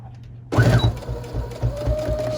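Sewing machine stitching the corner seam of a fabric tote bag, starting abruptly from silence into a close, loud mechanical whir with a rapid needle clatter that keeps running steadily.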